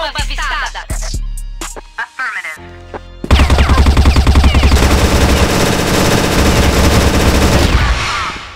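CrossFire gunshots: a few sharp shots and tones ring out at first, then a loud, sustained, rapid stream of machine-gun fire dominates for about five seconds before easing off.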